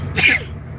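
A single sharp human sneeze, close and fairly loud, with brief breathy noise before it.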